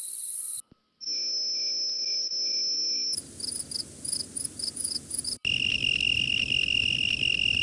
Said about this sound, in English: All I can hear were the crickets.